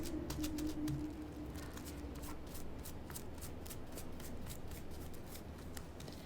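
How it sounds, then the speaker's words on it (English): Paper crinkles and rustles steadily up close while being crumpled for a handmade journal card, a continuous crackly texture with brief sharper crackles and no talking. "I'm going to actually crinkle the paper first before I add it onto the card"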